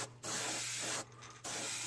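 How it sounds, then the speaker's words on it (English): An airbrush sprays paint onto a custom shad crankbait fishing lure in steady hissing bursts, two sprays broken by brief pauses, close and even. "I'm gonna spray almost right here"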